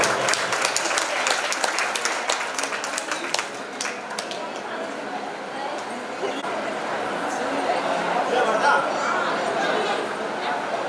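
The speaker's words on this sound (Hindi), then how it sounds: "जोरदार तालियों के साथ स्वागत।" An audience at a Shiv Mahapuran religious discourse in Ujjain gives loud, sustained applause, dense clapping that carries on throughout with crowd chatter underneath.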